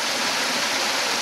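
Mountain stream water pouring into a rock pool in the Crimean Grand Canyon, a steady bright rush of splashing water, close and continuous through a short moment.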